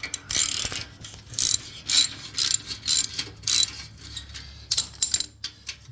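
A ratchet tool clicks in quick, irregular bursts while loosening a hose clamp on the heat shield of a 2013 Harley-Davidson Super Glide motorcycle, close and crisp, without talk.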